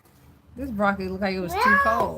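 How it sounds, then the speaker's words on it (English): A cat meows close by in a long, rising and falling cry, overlapping a person speaking indoors. "Yes, that's the cat."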